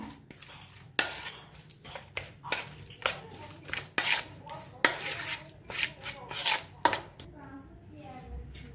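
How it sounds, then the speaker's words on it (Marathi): A spoon stirs fresh curd in a bowl while dahi dhapate batter is being made, giving a run of close, distinct clinks and scrapes at an uneven rhythm with short pauses between strokes. "आता छान असं चम्मचनं मिक्स करून घेऊया"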